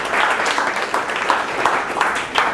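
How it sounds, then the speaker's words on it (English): An audience gives a round of applause to a speaker named Alex at a Creative Mornings talk, a moderate patter of clapping rising and falling in uneven bursts, with faint voices mixed in. "Give Alex a round of applause"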